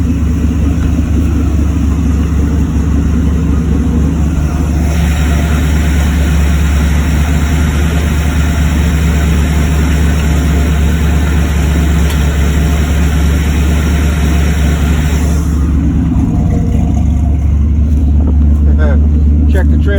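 A 1948 Dodge five-window coupe rat rod on a 1964 Corvette chassis idles loud and close with a steady, deep rumble throughout, and a person talks over the running engine.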